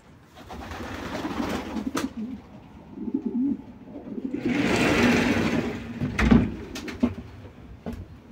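Pigeons in a Polish pigeon loft give low, throaty coos that recur through the scene, with a broader rustling swell midway and a few sharp knocks.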